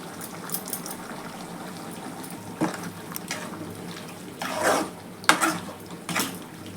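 Small onion chicken gravy with turmeric bubbles in a pan on the stove, a close, low simmer broken by irregular louder pops and gurgles.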